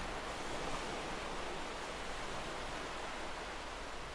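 Steady ocean waves wash continuously at a moderate level, a broad, even surf roar with no breaks or voices throughout.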